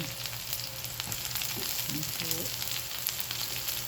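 Ground pork sautéed with garlic and onion over high heat, a loud steady sizzle with occasional stirring scrapes close by, and no talking.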